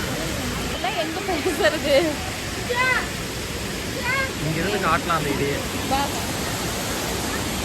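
Heavy rushing water at Hogenakkal Falls pours as a steady, loud broadband roar throughout, with people talking over it nearby.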